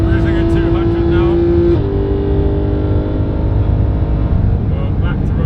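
A 2017 Porsche 991.2 GT3 runs flat out at high speed in third gear, a loud, steady, high engine drone with heavy wind and road roar filling the cabin.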